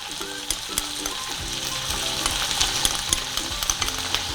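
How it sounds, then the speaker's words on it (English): Prawns sizzle in butter in a cooking pan, a steady crackling hiss close by, with occasional clicks and scrapes from the pan and no talking. "Can you just hear that sizzle?"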